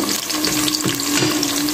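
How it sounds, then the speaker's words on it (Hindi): Cumin seeds sizzling in hot oil with frying onions for a potato pulao, a loud, dense, close crackling hiss filling the whole moment. "मैं इसके अंदर ज़ीरा भी ऐड कर दूँगी, 1/2 टीस्पून। ये देखिए, ज़ीरा ऐड कर दिया"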